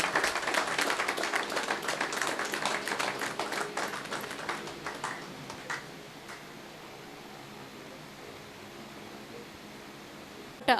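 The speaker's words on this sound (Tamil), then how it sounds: "கை வலிச்சாலும் பரவாயில்ல, நல்லாவே கை தட்டுங்க." Audience applause at a Rotary Club installation ceremony in Vellore, a dense crowd clapping steadily and fairly loud for about five seconds, then thinning out to scattered claps and hall ambience.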